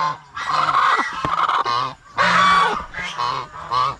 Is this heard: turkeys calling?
yes